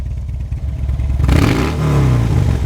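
A V-twin motorcycle engine in neutral idles with a low, lumpy pulse, then a throttle blip sends it into a loud, rising rev that holds at a high pitch close by.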